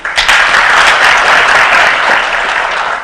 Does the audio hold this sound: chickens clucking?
no